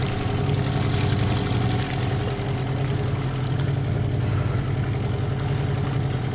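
A motorboat engine running steadily out on the water, a loud continuous mid-pitched drone that holds even throughout with no voices.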